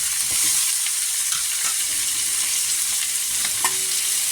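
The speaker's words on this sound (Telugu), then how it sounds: "ఇంకా ఫ్రై అయ్యాక ఆనియన్స్ బాగా ఫ్రై చేస్తాము." Onions and green chillies frying in a pan for chicken curry, a steady bright sizzle with a few light stirring scrapes and clinks, close and alone.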